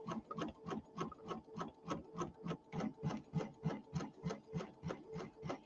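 An embroidery machine runs a basting line to hold fabric and batting to the hoop for a fall pillow, giving a quiet, steady rapid stitching rhythm of even needle thumps with no talk.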